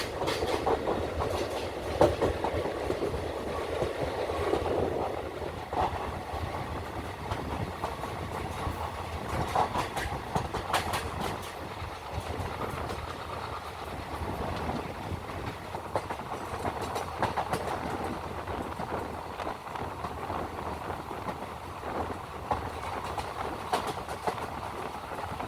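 A diesel-hauled Velankanni Express runs through Kuruppanthara station without stopping, a steady loud rumble and rattle of the carriages with rhythmic wheel clatter throughout, no voices.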